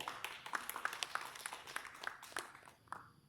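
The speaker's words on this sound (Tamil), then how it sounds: "தலைவர் கைதட்டுங்க." An audience at a spiritual discourse in Malaysia claps for a temple leader, with scattered, uneven hand claps sounding close and moderately loud for a few seconds before fading out.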